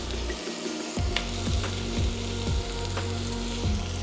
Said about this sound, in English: Now I'm gonna go ahead and add the peppers.